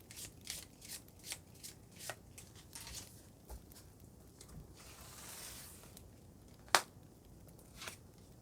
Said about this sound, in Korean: 제가 좋은 카드를 뽑아보도록 하겠습니다